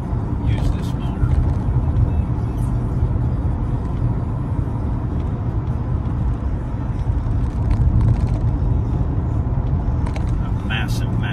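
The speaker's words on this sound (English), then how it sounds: "A massive, massive engine in this car," A 2000 Mercedes-Benz SL600 with its V12 engine runs while driving, giving a loud, steady, smooth low rumble with road noise throughout and no pauses.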